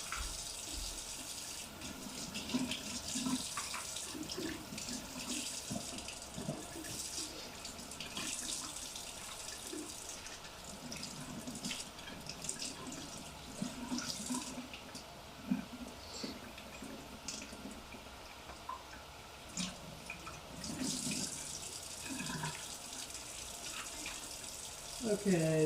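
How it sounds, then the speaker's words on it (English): Tap water runs steadily into a cup for most of the stretch, a continuous hiss with faint splashing and drips, heard close up, with some quiet talk and kitchen movement over it. "Just gonna quickly fill this up with water before I forget"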